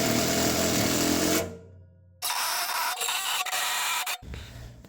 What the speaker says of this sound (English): Almost forgot to fasten it down. Just gonna use these 3-inch stainless steel with some washers.